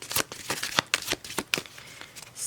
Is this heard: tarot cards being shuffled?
yes